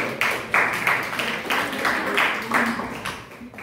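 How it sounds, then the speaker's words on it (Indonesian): Primary-school classroom applause for a pupil during a lesson on measuring angles and time: a group of children clapping in a rhythmic, near, moderately loud pattern, with regular strong beats for several seconds. "Tepuk tangan buat adik."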